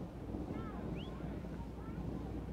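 Steady low wind rumbles and buffets outdoors at the San Jacinto battlegrounds, a continuous blustery roar with a faint distant chirp rising briefly above it.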